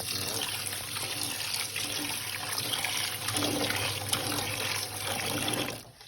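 Peeled shrimp rinsed under running tap water, a steady splashing flow with bits of sloshing and handling noise, ending abruptly near the close.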